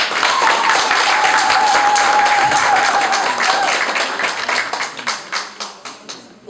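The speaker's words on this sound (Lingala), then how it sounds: "Je demande encore une fois d'applaudir pour l'initiative de Maman." An audience at an association gathering in Oslo claps together in a dense, loud burst of applause that thins out into scattered claps before ending.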